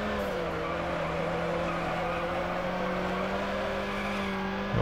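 A car drifts in Need For Speed Underground, its tires letting out a long, steady squeal while the engine drones underneath, loud and sustained throughout without any talking.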